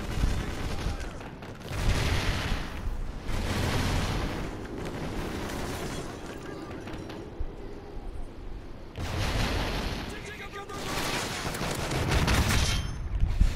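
Grenade explosions and gunfire in the Call of Duty Ghosts video game come as dense, roaring blasts in repeated waves of heavy noise, with lighter shooting filling the gaps between them.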